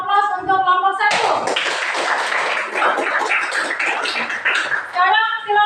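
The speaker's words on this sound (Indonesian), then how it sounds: "kita berikan aplaus untuk kelompok 1" Classroom applause for a student group during a teaching session in Makassar, a dense burst of clapping from many hands lasting about four seconds, framed by a teacher's voice speaking before and after.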